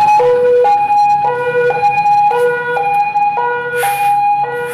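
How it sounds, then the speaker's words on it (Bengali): An ambulance siren on a road toward Kolkata and Barasat wails loudly in a repeating two-tone pattern, with faint road traffic beneath. "আর ওই যে সকাল হতে না হতেই অ্যাম্বুলেন্স যাচ্ছে"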